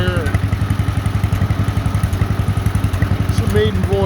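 A 1948 John Deere Model M tractor driving down the road in third gear, its engine chugging in a steady, loud, rapid pulsing rhythm close by, with no talk over it.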